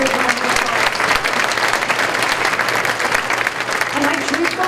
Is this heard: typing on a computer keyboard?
no